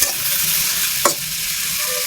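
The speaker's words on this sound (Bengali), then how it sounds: "এটা হালকা পেঁয়াজটা ভাজবাম" Chopped onions and green chilies fry in oil in a pan, giving a steady, close sizzle throughout with one brief stirring scrape midway and no talking.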